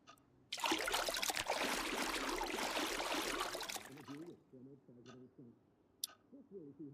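In the video game Project Zomboid, a character washes up with running water, a steady hissing splash lasting a few seconds before stopping, followed by soft scattered clicks and a quiet voice.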